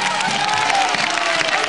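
Sustained audience applause and crowd noise at a dance show, dense and steady throughout with a few scattered cheers mixed in.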